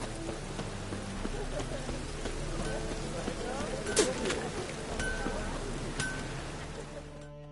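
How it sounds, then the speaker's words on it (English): Steady rain patters on surfaces throughout, with occasional sharper drips and light clattering, a continuous wet hiss in the background, in the video game The Witcher 3. "Looks like rain."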